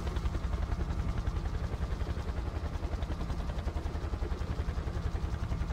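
A Chinook helicopter in the Battlefield 2 Project Reality mod, its twin rotors beating a fast, steady, heavy thump that stays loud and close throughout, with no voices over it.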